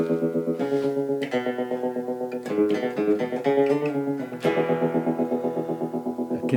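An electric guitar is played through a Stewmac Fan Tremolo pedal kit, its chords and notes pulsing in a fast, steady warble that swells and dips in volume, loud and close, with no voices.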